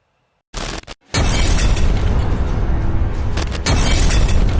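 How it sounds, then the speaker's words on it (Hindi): A loud, sudden explosion erupts after a brief burst, followed by a sustained roaring blast that rumbles on for several seconds. "एक भयानक धमाका जिसने बहुत बड़ी आतंकी साजिश को धुआं-धुआं कर दिया"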